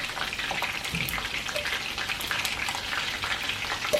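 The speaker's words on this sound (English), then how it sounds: "now that that grease is nice and angry, I'm going to go ahead and remove this batch and get ready to put the next batch in" Chicken pieces frying in hot, angry grease with butter, a steady dense sizzle and crackle filling the whole stretch, close and fairly loud with no talking.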